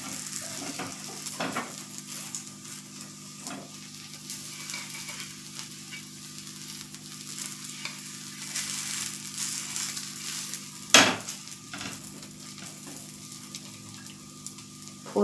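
Paneer dosa frying and browning on a hot pan, a low steady sizzle running throughout with scattered scraping clicks and one sharp metallic tap near the end.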